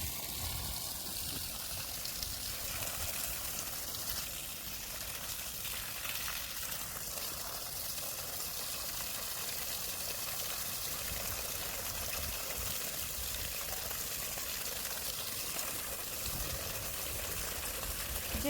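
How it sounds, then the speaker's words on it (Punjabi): Water runs steadily into garden flower beds from an opened channel, a continuous trickling, gushing flow that holds even throughout, with no voices. "ਪਹਿਲਾਂ ਇਹ ਚ ਪਾਣੀ ਛੱਡਾ ਇੱਧਰ ਲੋ ਜੀ ਫੁੱਲਾਂ ਨੂੰ ਪਾਣੀ ਆ ਗਿਆ ਸਾਰਿਆਂ ਨੂੰ"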